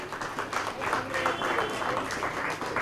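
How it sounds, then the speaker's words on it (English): An audience at a UKG graduation and sports day keeps up steady applause, a fairly soft, even patter of many hands, with voices faintly mixed in. "Keep the claps going for all of children parents."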